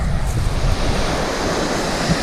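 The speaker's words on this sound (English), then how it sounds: "Beach is quite nice today." Gentle waves wash onto a beach at Pakefield on a calm sea, a continuous loud rushing surf mixed with wind buffeting the microphone, with no voices.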